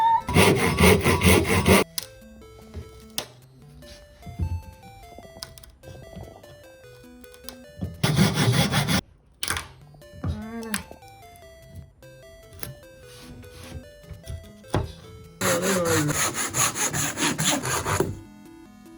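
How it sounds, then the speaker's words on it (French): A Japanese handsaw cuts through wood in three bursts of rapid, raspy strokes, close and loud, separated by quieter stretches of background music. A single word is spoken briefly. "C'est ma scie japonaise, c'était mon cadeau de Noël"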